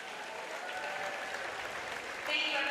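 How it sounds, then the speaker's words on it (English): Applause from the crowd at a high school boys basketball game on military night, a steady, moderately distant wash of clapping that swells slightly near the end. "Huge round of applause for Kim Kislevion"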